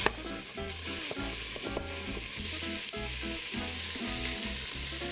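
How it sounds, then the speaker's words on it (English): Pork belly frying in oil in a hot Instant Pot on saute mode for Taiwanese braised pork, a loud continuous sizzle with stirring and spatula scrapes against the pot. "you basically need to fry the pork before you add in the liquid"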